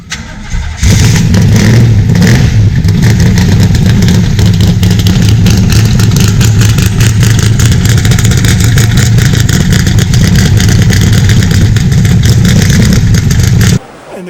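An unmuffled 1966 Corvette 427 vintage racecar engine fires up and runs loud and close for about thirteen seconds, revving hard with a rough, pulsing roar before cutting off.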